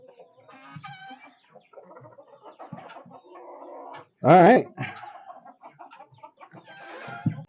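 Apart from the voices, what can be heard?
flock of chickens clucking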